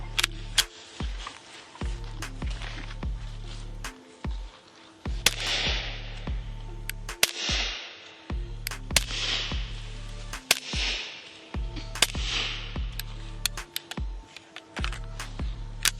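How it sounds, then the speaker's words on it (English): Suppressed gunshots from subsonic rounds fired through a SilencerCo silencer, heard as a series of sharp, moderately loud cracks spaced a second or two apart across the span, with no talking. "We're running subsonic rounds with the silencer Co."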